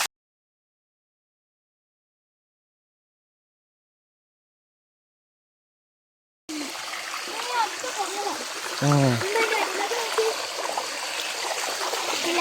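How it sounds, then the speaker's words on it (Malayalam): A small waterfall on a forest stream runs in a continuous close rush and trickle. It starts only halfway through after silence, with a brief louder splash near the end. "ഇതെന്താ ഒരു വെള്ളച്ചാട്ടം?"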